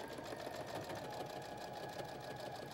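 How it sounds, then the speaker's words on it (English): A sewing machine runs continuously at steady speed, stitching bias tape onto the edge of fleece for a baby poncho, a soft even whirring hum without pauses. "Sew your bias tape to the edge."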